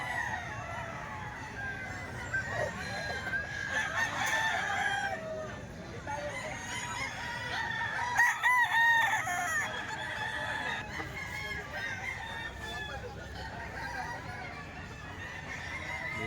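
A hiraw gamecock crows several times, loud and near, with other fowl clucking around it and faint voices in the background.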